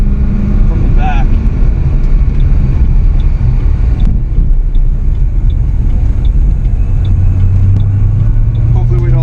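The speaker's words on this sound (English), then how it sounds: "Excited to see what this exhaust sounds like" A 2006 Saleen Extreme's exhaust drones as a steady, loud low rumble from the rear of the car while it drives, with road and wind noise continuous throughout.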